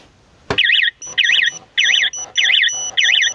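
An X-MEN X999 two-way motorcycle alarm keyfob, tested on a Lifan LF150-2E, goes off with a sharp click and then loud warbling electronic beeps in five short bursts, each ending in a steady tone, close and alone.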